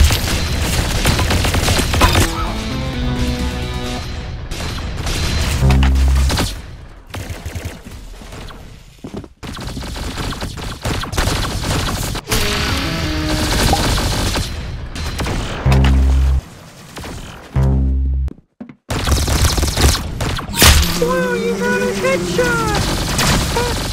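Rapid gunfire and heavy booms from the video game Arsenal, bursts of shots with brief pauses, loud and up front, with music and a voice talking over parts of it.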